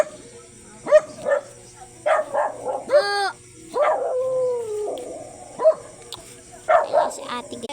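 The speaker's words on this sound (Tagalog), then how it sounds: "Yung aso." Dogs bark and yelp in short bursts, with one drawn-out, rising howl-like call in the middle, fairly close, while people talk intermittently around them.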